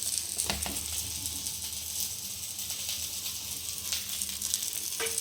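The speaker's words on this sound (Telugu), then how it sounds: "చేప ముక్కలు అనేది ఫ్రై చేసుకోవాలి" Pieces of fish frying in hot oil in a pan, a loud, steady sizzle with a few faint scrapes and clinks near the start and end, and no talking.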